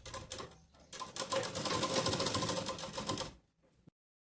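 A sewing machine stitches lace onto a small doll summer dress, a rapid steady mechanical rattle of needle strokes running close and clear for about three seconds before stopping, with no voices.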